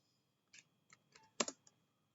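A few scattered keystrokes on a computer keyboard while entering a date into an Excel spreadsheet, quiet and close, with one slightly louder cluster of clicks in the middle.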